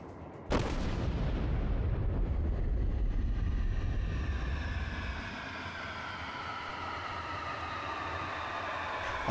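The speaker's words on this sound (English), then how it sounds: "Although every shell misses the target, notice how tightly packed the salvo was" A US battleship, the New York, fires a main-gun salvo in World of Warships: a loud, sharp blast that rolls into a long, booming rumble and fades slowly over several seconds, with no voices.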